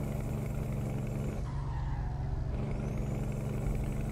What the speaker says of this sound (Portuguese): e meu caminhão canta turbina